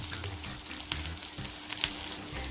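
Fish kebabs made from tuna sizzle and crackle steadily in a frying pan, a close, continuous fry with occasional louder pops and no talking.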